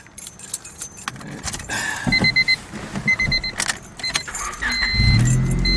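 Keys jangle and click in the ignition of a 1997 Honda Civic before the engine cranks and catches, settling into a loud, steady idle at the end of the clip.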